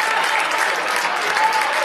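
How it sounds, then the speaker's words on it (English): Spectators at a high school basketball game between Olney Central and Kaskaskia clap steadily for a player, with a sustained wash of applause from the gym crowd throughout. "the crowd gives Elijah a hand"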